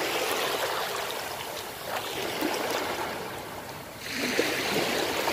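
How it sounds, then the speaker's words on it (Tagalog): Sea waves wash and churn continuously along the shore at The Cove Rotana beach, close and steady with slight surges, with no talk over them. "is playing with the waves"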